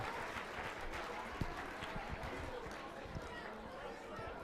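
Quick round of applause from the audience at a career expo keynote, a dense wash of clapping with crowd chatter mixed in, moderately distant and fairly steady.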